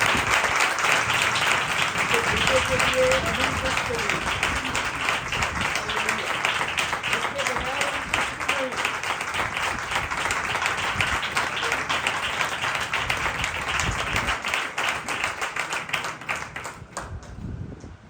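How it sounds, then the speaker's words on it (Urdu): A church congregation claps loudly and steadily for about seventeen seconds during a Sunday service, with a faint voice underneath, before the applause cuts off abruptly near the end. "آئے خداوند کے لیے زوردار تالیاں۔"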